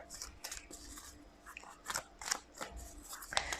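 A tarot card deck shuffled by hand, crisp papery riffles and snaps in irregular bursts, close and fairly quiet with no talk.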